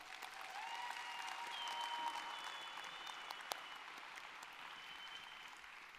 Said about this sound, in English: So give a big, massive round of applause to yourself.